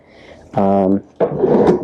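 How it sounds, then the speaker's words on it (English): A drawer slides open with a brief harmonic squeak followed by a rougher wooden scraping rub, two short close bursts. "My next favorite place to hide currency is going to be actually just right here in a drawer."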